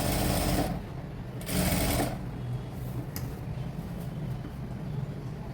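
A sewing machine stitches a garment in two loud close bursts of rapid needle clatter, then a quieter steady mechanical whir continues underneath.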